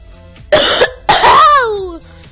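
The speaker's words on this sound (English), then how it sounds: "Excuse me if I start coughing a lot, please." Two harsh coughs close to the mic, the second drawn out with a rasping, wheezy tail.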